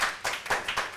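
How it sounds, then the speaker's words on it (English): Audience applause at a school board meeting, a brief burst of several people clapping in a room, fairly close and moderately loud. "Please hold your applause."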